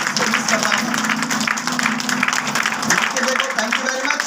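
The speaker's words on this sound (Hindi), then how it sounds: "मैं चाहूंगा सर के लिए एक बार जोरदार ताली जरूर बजाएंगे।" A room of listeners claps loudly and continuously for a presenter after a product talk, the dense applause holding steady throughout while voices carry on over it.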